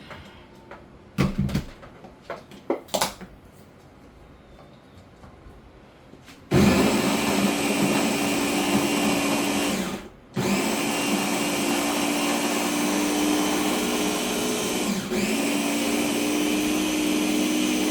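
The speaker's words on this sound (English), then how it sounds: "Just take the plantain, chop it up, and put it in a super cool blender like this" Electric blender running continuously on chopped plantain with nothing added, a loud steady whir starting after some handling knocks, briefly dropping out once then resuming and holding to the end.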